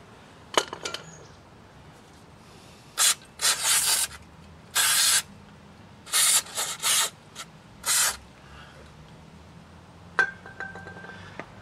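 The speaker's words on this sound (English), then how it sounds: "That spray sure comes out a lot of force." Aerosol brake cleaner sprayed onto the rear brakes of a 1998 Ford F150 truck, a series of loud, forceful hissing bursts of varying length, close up, with some clinks between and no talking.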